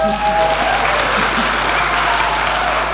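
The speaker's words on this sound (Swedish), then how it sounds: "En Annika, en stor applåd här, tycker jag." A church congregation gives loud, sustained applause, many hands clapping continuously and close, with a steady low hum beneath and a brief tone near the start.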